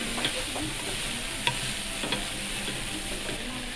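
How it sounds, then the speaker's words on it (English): Chopped okonomiyaki ingredients stir-fry on a hot surface, giving a steady close sizzle with occasional sharp clacks of a utensil turning the food. "Chop the ingredients. Stir fry for a while."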